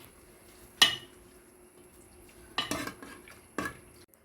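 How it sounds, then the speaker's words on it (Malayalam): Fried shallots are scooped into a cooked snake gourd and ground dried prawn curry: three short close clinks and scrapes of a spoon against the pot, with near silence in between. "വെന്തിരിക്കുന്ന നമ്മുടെ കറിയിലേക്ക് മൂപ്പിച്ച ചെറിയ ഉള്ളി കോരി അയക്കുന്നു"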